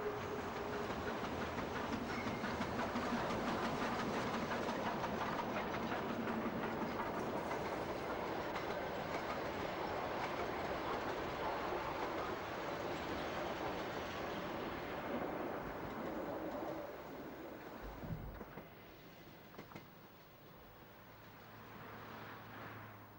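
A narrow gauge steam train rumbles along at a distance with a steady rolling clatter of wheels on track, gradually fading and quieting toward the end, on the Harz line from Nordhausen, Germany.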